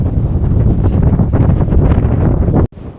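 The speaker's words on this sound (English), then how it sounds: "It's a shame the wind's so strong today." Strong wind buffets the microphone on Selworthy Beacon, Exmoor, a loud, continuous roar that cuts off abruptly near the end, with no voices.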